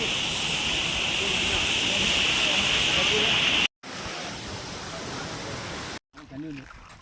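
Loud, steady rushing water roars with hiss, cut by two brief gaps, then a softer wash with a faint voice near the end.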